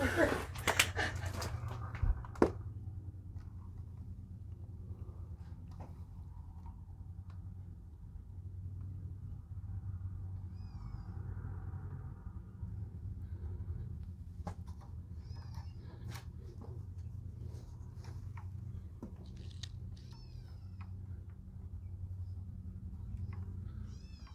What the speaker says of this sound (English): Probably another cat.